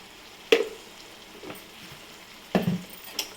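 Village-style curry is stirred in a pan after a spoonful of garam masala is added, giving two distinct scraping, clattering strokes with a soft wet squish, separated by quiet, and no speech.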